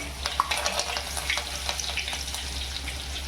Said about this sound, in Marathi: जिरा टाकलाय आणि ही मिरची टाकते एक कढीपत्ता